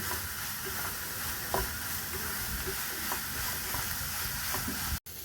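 Chopped onion sautéing with half a teaspoon of salt in a pan, a steady sizzle of frying with occasional stirring scrapes, close and even throughout, with no talking.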